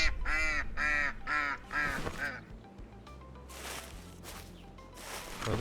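Geese in the hunting game Hunting Simulator 2, set in the Czech Republic, give a run of loud, close, repeated honks in the opening two seconds, followed by quieter calls and a low background hum.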